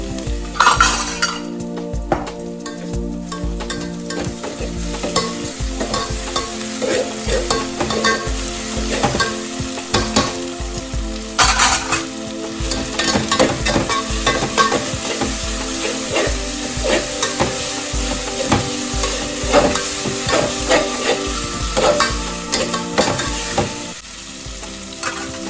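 Mutton frying with ginger garlic paste in a pan for donne biryani, a continuous loud sizzle broken by repeated scraping stirs and occasional clinks of a spoon against the metal pot, with no voices.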